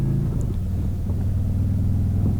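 A Harley-Davidson Road King rolls slowly around a corner, its big engine giving a low, steady, close rumble throughout with no voices.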